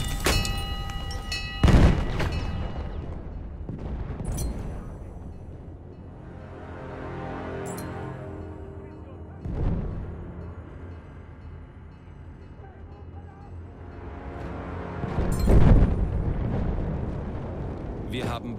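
Heavy artillery shells explode in a Battlefield 1 trench battle, three deep booming blasts near 2, 9.5 and 15.5 seconds with rumbling tails, under a continuous din of wartime game ambience.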